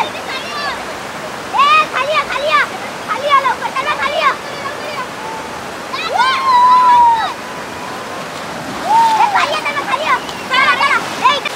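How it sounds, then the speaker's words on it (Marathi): Gurgling water from a village waterfall near Alibag, a steady wash of flowing and splashing beneath children's excited voices and shouts that come in bursts throughout. "पाण्याचा खळखळाट पहा."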